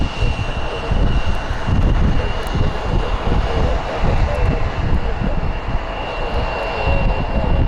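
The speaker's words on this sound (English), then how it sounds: "Got a United Express Embraer heading out." A United Express Embraer regional jet taxies out at Columbus airport, a steady broad engine roar with a constant high whine, loud and continuous throughout.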